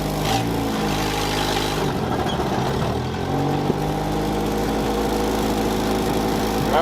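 The engine of a 1964 International Scout 80 stuck in place, running loud and close as the driver works the clutch to rock it, with its pitch rising and falling.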